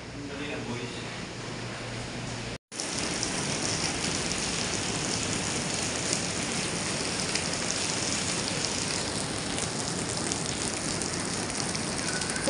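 Heavy rain pours at a resort pool at Pico de Loro, Nasugbu, Batangas, a dense, continuous roaring hiss that stays loud and steady throughout after a brief cut near the start.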